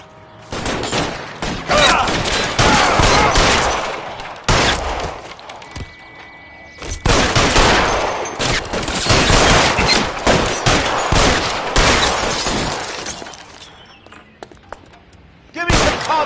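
Heavy gunfire rattles in L.A. Noire during a shootout with security men, dense bursts of automatic and single shots in loud clusters separated by brief lulls, with voices speaking at times in between.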